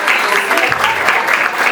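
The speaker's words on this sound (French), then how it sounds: "Vos applaudissements quand même." Applause from a church or student gathering audience, a dense steady wash of many hands clapping close by for the whole stretch, with no break or fade.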